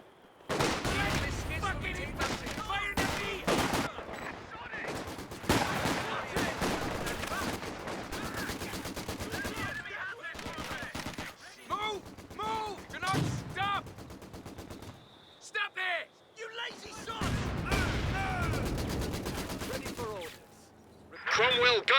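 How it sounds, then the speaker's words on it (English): Artillery barrage in the strategy game Company of Heroes 2, with dense bursts of gunfire and heavy explosions arriving in waves and brief lulls between them, under game voice lines. "An artillery barrage has been laid on."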